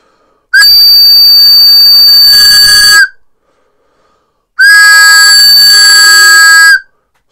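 A homemade wooden whistle made from pallet wood glue-ups is blown at full loudness in two long, piercing, steady blasts of about two and a half seconds each, separated by silence.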